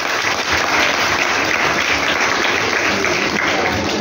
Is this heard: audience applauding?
yes